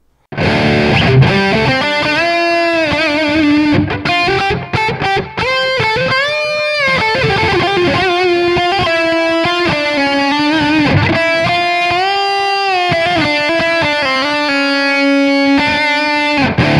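A distorted electric guitar plays a sustained melodic metal lead line through a Flamma FX200 multi-effects unit, notes ringing out with delay echoes and a wash of reverb, loud and continuous.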